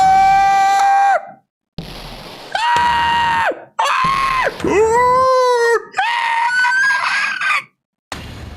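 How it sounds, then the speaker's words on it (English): Scream from an Ace Attorney video game, a series of loud shrill bird-like screeches in separate bursts with pitch bends and brief silences between, close and clear. "That scream! I've heard that scream before."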